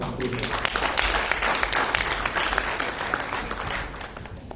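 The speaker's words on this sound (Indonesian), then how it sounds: "Tepuk tangan dong." Audience applause at an insurance business seminar, a full, steady crowd clapping with many hands at once, sustained and fairly loud before tapering slightly at the end.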